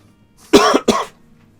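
Two quick, harsh coughs in a row from one person, close and loud against a quiet background.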